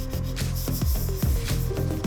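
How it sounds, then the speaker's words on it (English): Sanding of fine putty on a dented car body panel, a steady rubbing scrape with repeated back-and-forth strokes, close and fairly loud, with no talk. "Next, sand the surface again."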